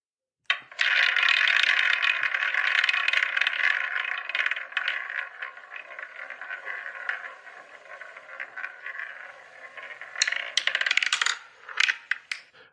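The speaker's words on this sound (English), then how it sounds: "So let's spin the wheel." A quiz-show prize wheel spins with a long, dense ratcheting clatter that gradually thins and slows, then finishes in a few last scattered clicks as it settles. It plays alone without voices.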